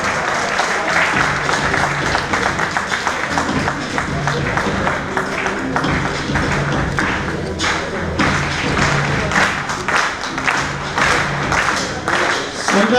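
Audience applause at a felicitation ceremony honouring Narharibhai Amin, a dense, loud, continuous clapping from a large crowd that fills the whole stretch without letting up.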